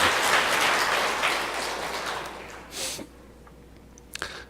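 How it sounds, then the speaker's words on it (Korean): A church congregation applauds the choir during a Sunday Advent service, a broad crackling patter that fades out after about three seconds into quiet room tone with a few faint stray sounds. "우리 박수를 치려면 뜨겁게 한번 우리 찬양대 박수 한번 주시죠."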